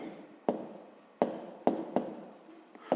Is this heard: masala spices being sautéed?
no